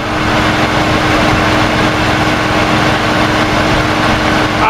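A car engine idles steadily and loudly up close during an at-home automatic transmission fluid exchange. The drone stays constant throughout, with no clear sputter and no talk.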